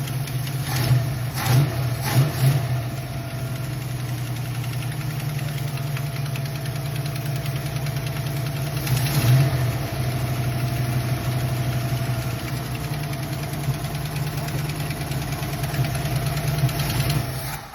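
A V8 engine in a Ford Fox-body Mustang hot rod idles steadily with a faint, rapid tapping under its hum, plus a few louder revs or thumps early and midway.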